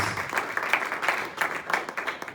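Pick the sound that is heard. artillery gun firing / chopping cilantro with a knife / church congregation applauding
church congregation applauding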